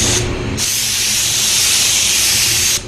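Spray gun laying down a light base coat of PPG car paint, a steady loud hiss of atomized spray that starts, pauses briefly, then runs continuously for a couple of seconds before cutting off.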